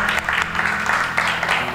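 Applause from a church congregation during a worship service, a steady wash of clapping that holds for a couple of seconds with a faint low hum underneath and no speech over it.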